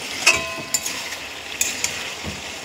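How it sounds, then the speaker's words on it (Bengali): Curry in a pan gives a soft, steady simmering hiss as a splash of broth goes in, punctuated by a few light clicks and scrapes of a utensil; close up and fairly quiet, with no voices. "অল্প ঝোল দিয়ে দিচ্ছি।"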